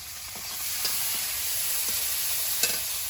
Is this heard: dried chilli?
yes